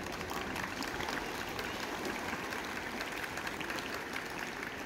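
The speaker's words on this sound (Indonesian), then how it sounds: "Tepuk tangan dulu." Students at a school morning ceremony applaud together, a dense, even wash of clapping held steady throughout, moderately distant and continuous, with no talk over it.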